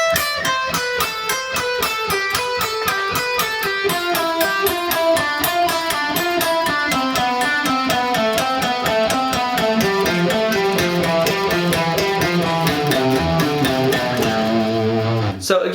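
Electric guitar plays a fast descending 12-note lick on repeat, crisp picked notes in a steady triplet-like rhythm, loud and alone throughout.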